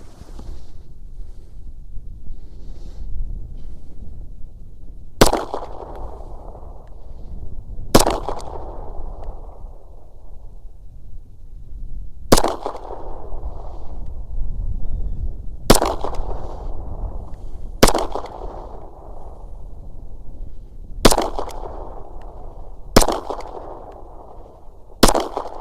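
Outdoor target shooting with a Glock pistol: eight sharp, loud gunshots spaced a few seconds apart, each with a trailing echo, over steady wind rumble at the microphone.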